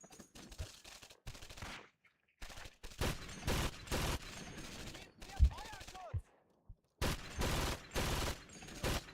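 MG34 machine gun in Medal of Honor Heroes 2 firing in rapid bursts, each a second or so long with short silent gaps between them, crisp and close.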